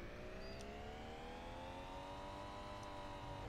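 A Toyota Supra diesel engine in BeamNG Drive revving up, a steady rising whine with clear engine harmonics climbing smoothly, fairly faint and with no talking over it.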